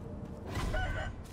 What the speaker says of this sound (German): Das ist ein Truthahn!